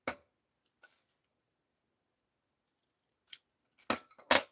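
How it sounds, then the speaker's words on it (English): Scissors snipping red thread during hand stitching: a few sharp, close metallic snips spaced apart in quiet surroundings, with a cluster of two or three cuts at the end. "I am going to snip it here because it's too long to fool with while I'm stitching."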